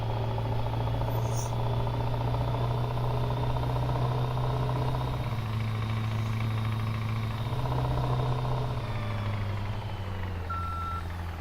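A Scania truck engine in Farming Simulator 17 drones at a low, steady pitch while driving, with slight shifts in revs and a brief high beep near the end, close and continuous.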